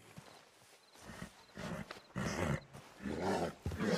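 A horse in the western video game Red Dead Redemption 2 snorts and shifts with irregular hoof clops and low breathy noises, close by, with no speech.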